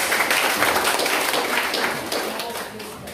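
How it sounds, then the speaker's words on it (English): An audience at a local government validation event in Hilongos, Leyte gives a round of applause, a dense burst of clapping that stays strong and then gradually tapers off, with some voices mixed in. "A round of applause."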